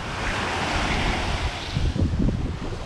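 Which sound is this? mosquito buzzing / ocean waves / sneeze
ocean waves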